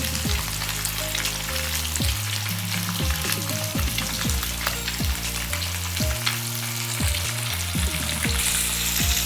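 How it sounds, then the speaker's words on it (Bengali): Pieces of fresh rohu fish frying in oil, turned over to cook the other side, giving a continuous dense sizzle and crackle with scattered sharp pops, close and steady with no talking. "আর এক পিট ভেজে নিচ্ছি উল্টে দিয়েছি এটা কিন্তু জ্যান্ত রুই মাছ"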